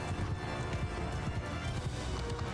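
Cavalry horses gallop in the medieval battle game Mount & Blade II: Bannerlord, a rapid rumbling patter of many hooves close by, steady throughout the short stretch with no voices.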